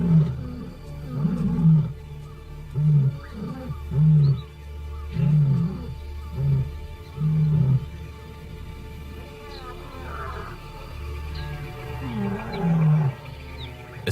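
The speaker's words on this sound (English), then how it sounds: "They roar to warn surrounding prides that their territory is still taken." Male lions roar in the wild to warn rival prides off their territory, a rhythmic series of deep, loud grunting roars that swell and fade, repeated about seven times with a second roaring bout at the end.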